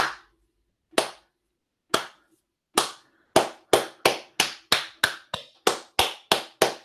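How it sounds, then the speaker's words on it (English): A lone person starts a slow clap: sharp, close hand claps, at first widely spaced about a second apart, then quickening into a steady, faster rhythm, with no other clapping joining in. "I've always wanted to start a slow clap."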